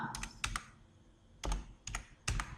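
Computer keyboard keys clatter in short bursts while a name is typed into an Excel spreadsheet, with clusters of crisp, close key clicks separated by brief pauses.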